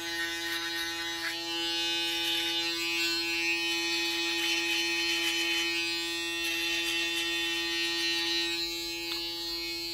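A UFREE electric shaver running over morning stubble, a steady close buzzing hum with scratchy cutting sounds rising and falling as it moves across the skin, no talking.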